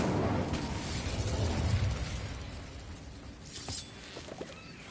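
An Incendio fire spell cast in the Hogwarts Legacy game bursts out as a loud, crackling fiery whoosh that fades away, followed by a few sharp pops and small impacts.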